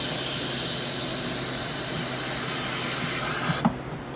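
Water sprayed onto a Reticularis plant, a steady close hiss of spray lasting several seconds, then stopping abruptly near the end with a small knock.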